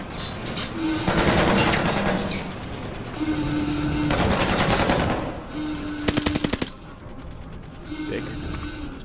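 Bursts of machine gun fire in the World War II shooter Call of Duty: Vanguard, several loud sustained volleys separated by short pauses, with shouted voices and battle noise running underneath.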